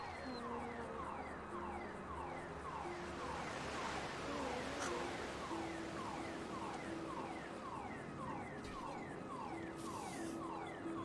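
A car alarm blares inside a video game, cycling through repeated rising whoops and steady warbling tones at a regular pulsing rhythm, moderately loud and continuous for the whole stretch.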